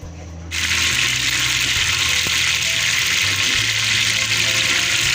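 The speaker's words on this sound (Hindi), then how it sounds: "ये प्याज फ्राई करेंगे।" Onions sizzling steadily in hot oil for chicken biryani, a loud, continuous frying hiss that starts abruptly and holds throughout, with faint kitchen clatter beneath.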